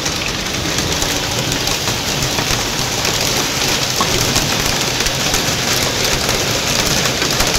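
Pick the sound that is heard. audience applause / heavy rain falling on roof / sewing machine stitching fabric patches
heavy rain falling on roof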